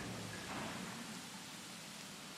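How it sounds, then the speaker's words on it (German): Rain in the dinosaur park game Jurassic World Evolution falls as a steady, quiet hiss of broadband noise, constant throughout, with no speech. "es regnet zwar noch ein bisschen, aber Regen stört jetzt nicht unbedingt sonderlich."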